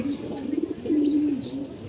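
Pigeons coo in low, steady murmurs, one longer drawn-out coo standing out, close by in a home loft.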